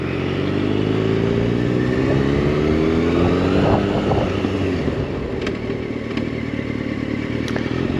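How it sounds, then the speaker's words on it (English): A Yamaha FZ8 motorcycle rides steadily, its engine drone and gear whine shifting pitch as the rear brake slows it, with wind rush throughout and a few faint clicks near the end. "I want to just try the back brake separately. See what the back brake's like."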